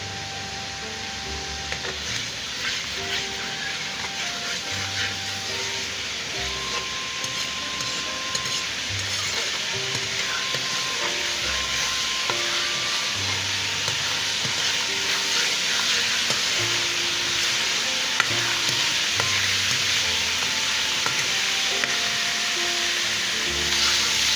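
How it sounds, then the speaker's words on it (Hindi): Garlic and ginger sizzle and crackle steadily in a hot pan, a bright continuous frying hiss with occasional stirring scrapes, fairly quiet and without speech. "ये लहसुन अदरक फ्राई हो गया।"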